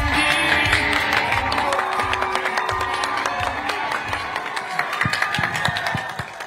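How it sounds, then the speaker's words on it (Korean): A dense crowd roars and claps steadily at an outdoor Korean political rally for candidate Lee Jae-myung, a loud, continuous wash of cheering with scattered sharper claps and a faint voice underneath. "더 큰 함성"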